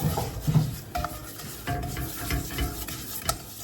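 Garlic powder and seasonings being stirred in a pan for venison enchiladas, a continuous soft sizzle under repeated scraping and clinking strokes of a utensil against the pan, close and without speech.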